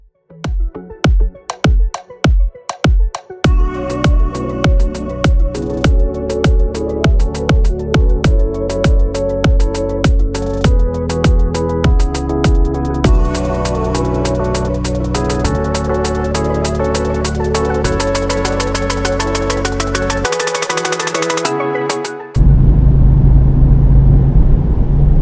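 Car engine revving close and loud through a series of gear changes as the turbo boost builds, each gear pulling harder before a final shift into a roaring burst.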